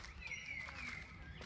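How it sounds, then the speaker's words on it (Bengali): Birds sing in a hillside park at Chunabhati near Tindharia, Darjeeling: a faint, drawn-out whistling call rises and falls over quiet outdoor ambience. "আর পাখির আওয়াজ শুনুন"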